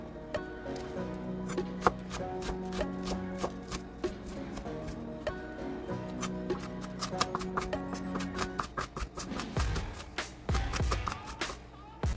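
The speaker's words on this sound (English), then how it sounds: "So I'm just going to chop our onion up." A knife chops an onion on a board in quick, rhythmic, close-up strikes, speeding into a denser flurry toward the end, with no talking.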